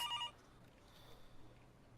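A telephone rings on an office desk in a visual novel video game: one short electronic ring at the very start, then quiet room tone.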